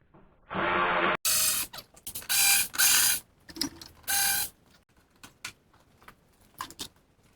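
A ratchet backing out 7mm bolts from the headlight of a 2009 Chevrolet Malibu: several bursts of rapid mechanical clicking, nearby and separated by short pauses, with faint handling clicks and taps between them.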